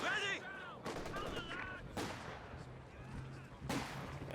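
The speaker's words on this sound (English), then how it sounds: "The Sniper keeps firing, 11 kills now." Sniper rifle firing in Company of Heroes 2, a few sharp cracking shots amid battle noise and low hum, with a commentator talking over it at moderate distance.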